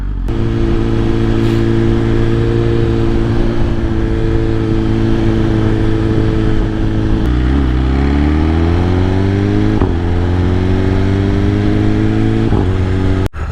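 A 2025 Honda Africa Twin Adventure Sports 1100 idles loudly and close by, a steady low engine drone that swells in a few brief throttle blips and settles back, with no talking over it.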